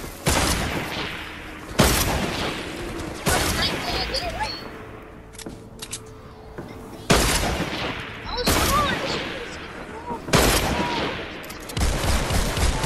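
Repeated bursts of weapon gunfire in the Fortnite Save the World video game, several loud rapid volleys separated by short pauses, with players talking between and over the shots.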